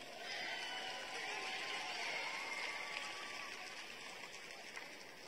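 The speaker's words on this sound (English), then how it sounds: "Y'all give him another round of applause." Audience applause at a 2023 high school graduation ceremony, a broad, even wash of many hands clapping at a distance in a large venue, steady and sustained with a slight fade near the end.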